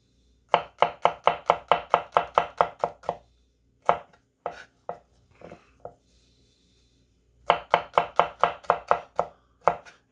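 Knife slicing vegetables thin on a cutting board for Chinese dumplings, crisp close chops in quick even bursts of about ten strikes, a short pause with a few scattered taps, then another fast run of chops, with no talk.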